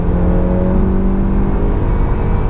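A tuned Honda Accord 2.0T with a Stage 3 tune accelerates hard. Its engine gives a loud, steady, close drone with a strong whirring tone throughout the short burst.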